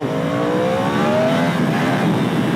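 A 2019 Yamaha R1 sportbike, 200 hp and 199 kg, accelerates hard in first gear, its loud, close engine note climbing steadily in pitch.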